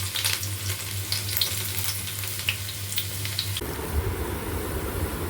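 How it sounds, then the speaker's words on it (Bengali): Garlic frying in white oil in a pan, making a close steady crackling sizzle over a low background hum that cuts out partway through. "এই রসুনগুলোটা তেলের মধ্যে একটু ফ্রাই করে ওর মোমোর হিসেবে দিয়ে দেবো"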